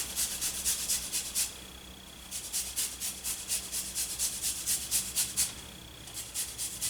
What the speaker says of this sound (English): I always zest the lime first because once it's been juiced, you can't really zest it